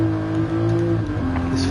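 A Supra and a GTR race in a video game, with a car engine at full throttle giving a steady, loud, droning rev. A brief dip near the end suggests a gear change, and a voice talks faintly underneath.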